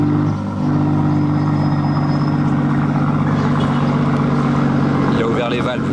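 A Ferrari 812 GTS V12 with its exhaust valves open rumbles steadily and loudly at close range, a deep continuous engine note with a brief rise near the end, as people talk nearby.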